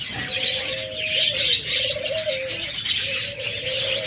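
Caged cockatiels, lovebirds and budgerigars chirping, repeated warbling whistled calls and coos close by, over a dense background of twittering from many birds.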